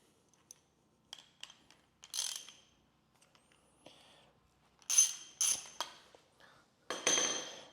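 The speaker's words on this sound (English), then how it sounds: "So we want to remove this 10mm nut to sort of get access to inside this bulb here" A 10mm nut on a Ryobi lawnmower carburetor is undone with a ratchet, giving quiet clicks followed by several louder bursts of metallic ratcheting and tool clatter close by, with gaps of near silence.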